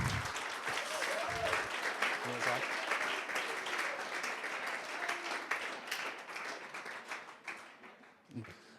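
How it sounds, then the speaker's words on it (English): Audience at an evening pitch competition applauds the competitors, a dense, steady round of clapping from a sizable crowd that tapers off toward the end with a few scattered claps. "give them all a round of applause"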